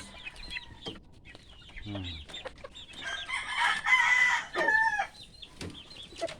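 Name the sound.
chickens clucking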